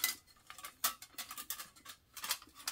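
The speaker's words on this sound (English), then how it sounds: "This is a little stove here. It's a folding stove. I got a fork in here with it." A small metal folding camp stove is handled with a fork, giving a string of light, irregular metallic clinks and taps, close and fairly quiet, with short pauses between them.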